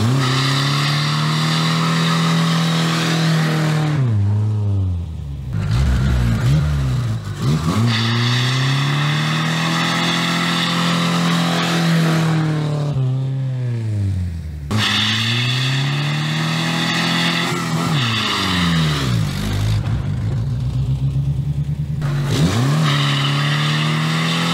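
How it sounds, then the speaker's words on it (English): A Ford Ranger pickup doing burnouts on a road: the engine revs hard in repeated rising and falling surges for about twenty-five seconds, loud and close, with rough, tearing tire noise through each run and no talk. "Let's get it out and see if we can do a burnout with that one."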